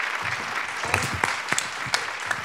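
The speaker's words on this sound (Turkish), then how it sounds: "Alkış." A studio audience at the İbo Show, a Turkish television entertainment programme, claps steadily with scattered sharper claps standing out, heard fairly close for a short burst.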